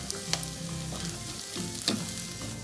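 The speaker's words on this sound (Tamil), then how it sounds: "ரெண்டையும் சேர்த்து நல்லா வணக்குங்க." Chopped onion and grated coconut sauté together in a pan for tomato chutney, giving a steady close sizzle broken by a few sharp scrapes and clinks of stirring.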